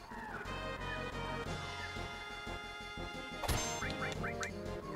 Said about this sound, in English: City birds.